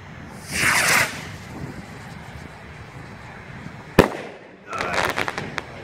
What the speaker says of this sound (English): Got Mars rockets.